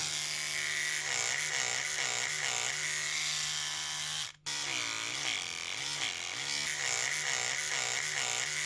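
A Braun electric toothbrush with fresh AA batteries runs with a loud, steady buzzing hum that wavers rhythmically, stops for a moment, then starts again and keeps buzzing.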